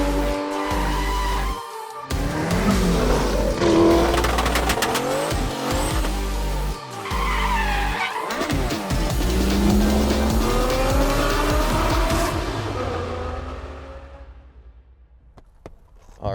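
An imported Mazda FD RX-7 from Japan is driven hard, its engine note loud and steady with repeated tire squeals rising and falling. The sound stays busy with no break before fading near the end.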